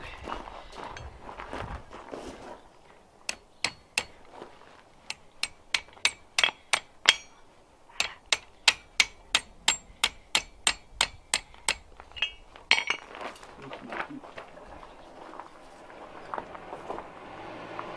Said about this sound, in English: cool it off so I can hammer on it a little bit